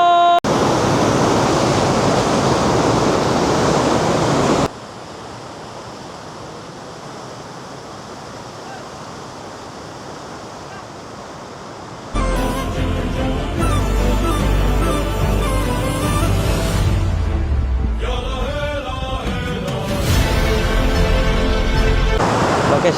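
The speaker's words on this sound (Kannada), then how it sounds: "Welcome you guys, Vajra falls." Vajra Falls in Joida Taluk, Uttara Kannada, Karnataka, gives a steady broadband roar of falling water, heard close and loud at first, softer in the middle, then under later louder sounds.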